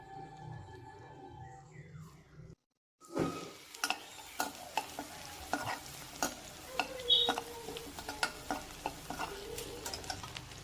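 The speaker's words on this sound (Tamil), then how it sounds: "அந்த பூண்டு அந்த பட்டர் கூட ஃப்ரை ஆகும்போது ஒரு சூப்பர் ஸ்மெல் வரும்." Crushed garlic fries in melted butter for a rice dish, a brief quiet gap giving way to steady close sizzling punctuated by frequent spoon scrapes and taps against the pan.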